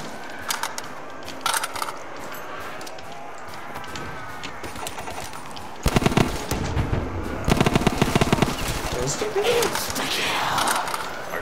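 Rapid automatic gunfire from a weapon in Black Ops 3 Zombies on a custom Gingerbread House map, firing in repeated bursts that grow denser and louder partway through, with game sounds around it.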